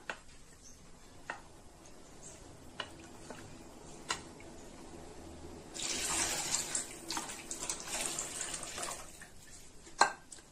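Water is poured into a pan while making egg tamarind curry, with a soft, steady splashing rush midway, amid scattered small clinks and ticks, fairly quiet and close.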